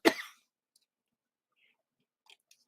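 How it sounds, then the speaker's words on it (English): One short, sharp cough at the start, followed by near silence and a few faint clicks. "sorry guys, I'm getting that cough again."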